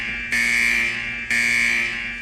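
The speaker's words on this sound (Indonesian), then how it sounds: "alarm tanda kedatangan jenazah pun berbunyi" A morgue alarm announcing the arrival of a body sounds two loud, steady electronic buzzer tones, each lasting about a second, with a brief gap between them. No voices are heard.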